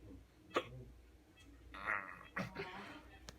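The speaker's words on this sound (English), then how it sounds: "The hiccups." Hiccups from a person, a few sharp abrupt catches spaced irregularly, quiet and close, with faint breathy throat sounds between them.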